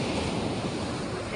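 Steady wind blowing outdoors, a continuous broadband rushing with no breaks.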